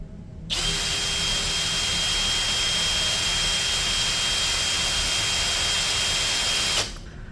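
Cordless brushless Dongcheng DCJ impact drill spinning at steady speed, a loud continuous high-pitched whine that starts abruptly, holds evenly for about six seconds and then cuts off, with no talking.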